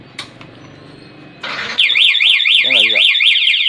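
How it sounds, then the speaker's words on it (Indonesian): Yamaha NMAX scooter anti-theft alarm: after a few quiet clicks and a burst of noise, a loud warbling siren starts and keeps cycling with rapid rising-falling wails and pulsing beeps. "Gembok tutup 1 kali maka mesin mati dan alarm berbunyi"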